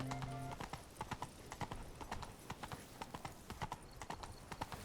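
Roach the horse's hooves clip-clop at a steady walking pace in The Witcher 3, a continuous rhythmic clatter with a brief whinny at the start.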